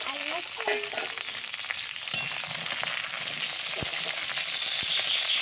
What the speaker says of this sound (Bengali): এই জন্য আমি আলুটা আগে একটু ভাজা করে নিচ্ছি